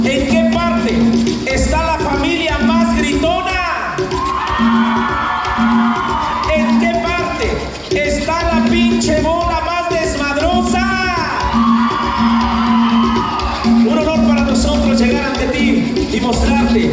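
Large crowd shouting, whooping and cheering at a big outdoor dance with a live banda in a Oaxaca village, loud and continuous over steady band music, with bursts of yelling rising and falling throughout.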